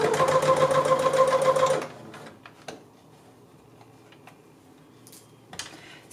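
A sewing machine stitches a shirt placket in a fast, steady mechanical chatter for nearly two seconds, then stops, leaving a few faint clicks and handling sounds.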